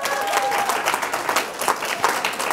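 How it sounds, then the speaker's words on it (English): A room of workshop attendees at a psychotherapy talk applauds, giving a brisk, full burst of many hands clapping that holds steady for a couple of seconds. "Give yourselves a round of applause"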